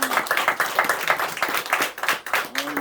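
A church congregation claps in welcome for a new choir member during Sunday morning worship, a dense burst of close, lively hand clapping lasting a few seconds.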